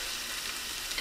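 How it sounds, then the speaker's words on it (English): Olive oil sizzles steadily in a preheated pan before salmon and asparagus are cooked, a soft, even crackling hiss that carries on without pause and without talk. "now the pan is pretty much heated. So I'm just gonna add a little bit more oil."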